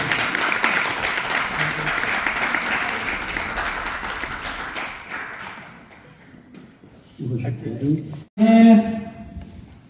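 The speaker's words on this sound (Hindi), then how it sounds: "तालियां ये सैयद खान साहब के लिए।" A crowd claps steadily for several seconds at an evening event honoring elders, then the applause dies away, followed by someone speaking briefly near the end.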